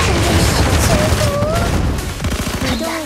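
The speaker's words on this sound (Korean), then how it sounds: "화력 지원 시작한다" Fire support gunfire in the video game Blue Archive: a dense, sustained fusillade of shots and booms, loud and continuous, with short voice-like tones over it.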